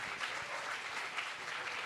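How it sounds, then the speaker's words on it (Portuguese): A short burst of audience applause at a book fair panel discussion, a dense, even wash of clapping from a crowd that lasts just under two seconds. "palmas para o Machado de Assis."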